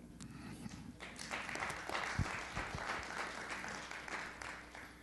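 A church congregation applauds the Lord, a dense run of clapping that swells and holds for several seconds with crowd noise underneath.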